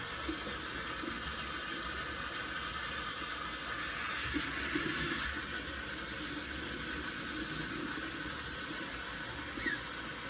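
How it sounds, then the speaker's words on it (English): Steady rushing water runs continuously, warm water being poured into a container of sprouting seeds, with a faint background hum. "and I'm going to put some warm water"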